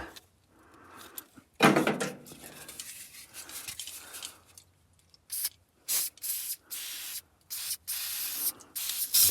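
Several short hissing bursts of aerosol spray, close up, coming in quick uneven spurts separated by brief pauses, after some earlier rustling and handling noise.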